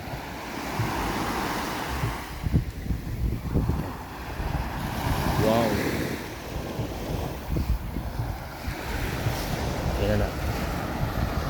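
Calm sea surf washing onto a clean, fine-sand beach, a steady broadband wash with wind buffeting the microphone, while a person speaks briefly over it.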